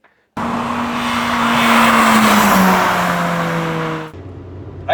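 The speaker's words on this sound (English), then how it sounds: "this is us out in Darren's DC5" A Honda Integra Type R DC5 drives on an open road, its engine droning loud and steady with a rising whine of acceleration and tyre roar, then cutting off abruptly near the end.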